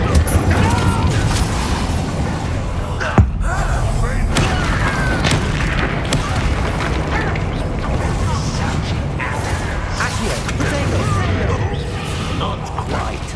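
Incendio fire spell cast in the Hogwarts Legacy video game, heard as booming bursts and whooshing blasts amid ongoing combat effects, with someone speaking over the action.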